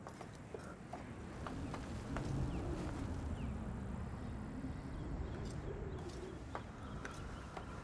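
Pigeon-like birds coo and flutter in A Plague Tale: Requiem, set against a steady outdoor bed with scattered clopping taps and no speech.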